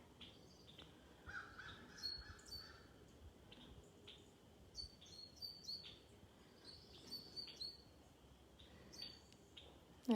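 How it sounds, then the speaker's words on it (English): Crows caw faintly in the distance outdoors, with scattered chirps from smaller birds near a seed feeder in a quiet rural setting. "I hear some crows out there right now."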